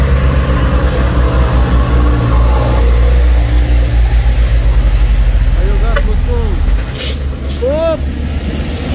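A heavy trailer truck labors up the steep Bukit Kodok hill with a deep, loud engine drone and a sharp air hiss near the end, while people talk over it.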